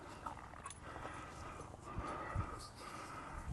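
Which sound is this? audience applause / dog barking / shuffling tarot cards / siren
dog barking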